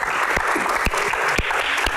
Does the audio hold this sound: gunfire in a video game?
no